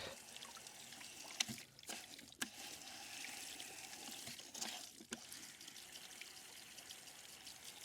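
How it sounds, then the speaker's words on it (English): Steady trickling water runs continuously as a livestock waterer tank refills through its float valve, with a few brief knocks and clicks along the way and no talking. "Water gets low and fills up just like a toilet tank."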